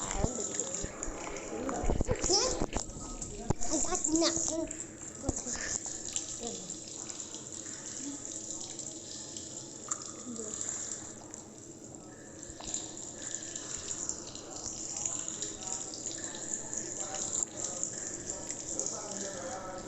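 Water spraying from a broken pipe, a continuous hissing gush running throughout with a louder burst early on, while people talk over it nearby.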